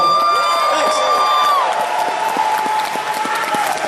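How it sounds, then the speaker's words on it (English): Applause at an anime convention opening ceremony, a dense, sustained burst of crowd clapping with scattered cheers and whoops, loud and close, while a tone rings over the start. "A big round of applause for all those guys."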